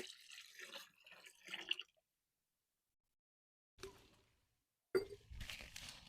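Whey being diluted with water in a garden container for watering rhododendrons, heard as a few short bursts of sloshing, pouring liquid separated by silent pauses, fairly quiet and close.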